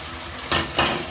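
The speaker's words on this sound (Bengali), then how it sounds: "আমি ভালো করে নেড়ে কিছুক্ষণের জন্য কষিয়ে নেব।" A spatula scrapes and tosses ground shrimp, fried potato pieces and cucumber in a hot pan. Two quick, loud stirring bursts rise over a soft continuous sizzle, close by and without speech.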